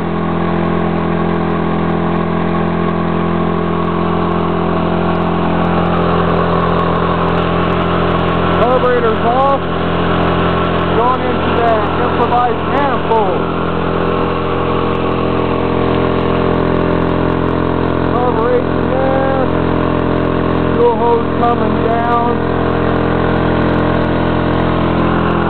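A 110cc four-wheeler engine running on wood gas drones steadily at a constant idle-like pitch throughout, with someone talking intermittently over it.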